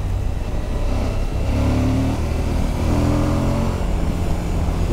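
A 2021 Suzuki V-Strom 1050 XT adventure motorcycle accelerates hard on the road in its aggressive riding mode; the engine drone rises in pitch under steady loud wind rush, with no speech.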